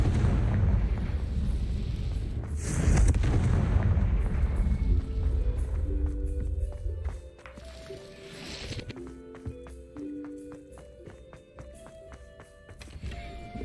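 Confringo spell explosions in a Hogwarts video game: two loud, booming bursts a few seconds apart over soft in-game musical tones, with faint footsteps between them.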